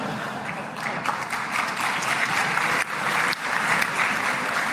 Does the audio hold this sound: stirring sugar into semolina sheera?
no